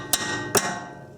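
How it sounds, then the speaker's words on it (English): Two sharp metallic hammer strikes hit a Honda Accord brake rotor hub about half a second apart, close and loud in a garage, each ringing briefly afterward. "Just knock it out the rest of the way with a hammer."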